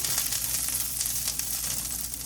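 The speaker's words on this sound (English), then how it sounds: "I'm letting my skillet get as hot as I can because I got my butter in here" Butter and olive oil sizzle steadily in a skillet heated as hot as possible, a continuous close hiss with no break and nobody speaking.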